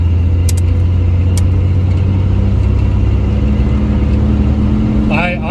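A 1988 Chevrolet S10 Blazer on off-road tires drives along with a loud, steady engine and road rumble from inside the cabin, rising slightly near the end as it accelerates.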